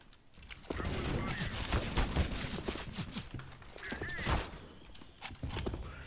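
Bursts of rapid CS:GO gunfire crackle in quick volleys, mixed with Spanish-speaking voices talking over the shooting.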